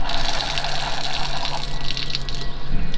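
Hot water gushes steadily from the freshwater valve of a 2019 Winnebago Navion 24D motorhome during sanitizing of its drinking system, a continuous close, splashing flow with slight fluctuations and no talking.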